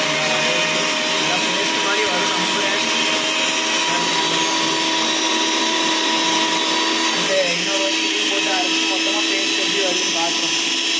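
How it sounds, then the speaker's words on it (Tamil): A small mixie grinder whirs steadily at close range as it blends butter chicken gravy, a loud continuous motor whine that holds for the full stretch and shifts slightly in pitch partway through. "கொஞ்சம் கொஞ்சமாக தான் அரைக்க முடியுது, ஏன்னா மிக்சி கொஞ்சம் குட்டியாக தான் இருக்குது."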